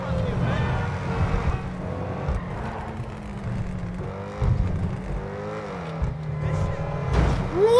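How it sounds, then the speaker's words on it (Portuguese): Car braking and skidding in GTA V, a loud engine drone with tyre slides running throughout under a talking player, rising to a sharper screech near the end. "freando o carro sai deslizando tudo"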